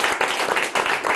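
Applause from a studio audience greeting a guest on an Italian TV sports show, a dense steady clatter of many hands clapping close by, with no voices over it.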